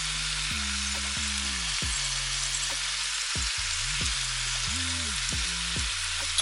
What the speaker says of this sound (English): you boil your butter for a little bit, just so those herbs can cook just a little bit